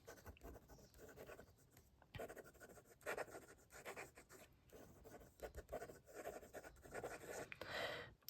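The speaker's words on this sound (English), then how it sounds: "Let's do some quick writing." A Gravitas Piston carbon black fountain pen scratches across paper in short, quick strokes, a faint, close, rhythmic rasp broken by brief pauses between words.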